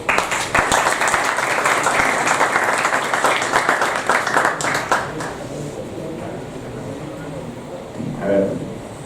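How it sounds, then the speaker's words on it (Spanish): Applause welcoming a speaker at a university campus discussion event in a Spanish-speaking setting, a crowd clapping steadily for about five seconds before dying away, with a voice speaking through and after it. "Lo recibimos a Daniel con un aplauso."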